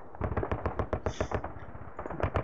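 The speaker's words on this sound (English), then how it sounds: "Artillery." Artillery fire from the Sealion '40 computer war game, a rapid series of sharp synthetic blasts and booms in quick uneven succession, fairly loud and close with no talking.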